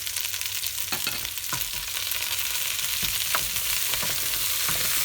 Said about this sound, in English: Okay guys, so now I'm going to add the onion.